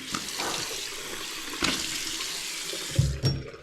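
A tap runs steadily into a sink, with splashes and wet hand sounds as someone washes their face close by.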